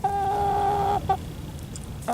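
A chicken lets out a drawn-out, sung cluck, then a short pause and a couple more clucks, close and loud.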